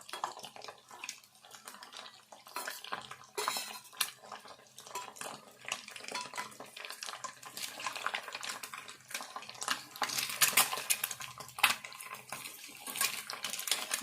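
Egg thokku pachadi ingredients fry in a pan while being stirred, giving a busy run of utensil clatter and scraping over a wet, crackling background, growing louder toward the end, with no talk.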